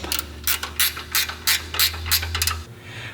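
A ratchet wrench snugs up a bolt on a JKS front track bar and sector shaft reinforcement kit, about eight quick, evenly spaced clicking bursts, loud and close, with no talking.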